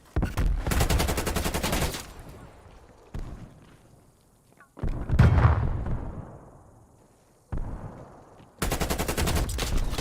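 Loud bursts of automatic gunfire in a video game, with several sustained volleys opening and closing the stretch and a single sharp shot in the middle trailing off into a long decay.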